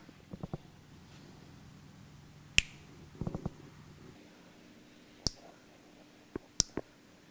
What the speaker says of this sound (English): first thing we got to do is cut all the tie straps off.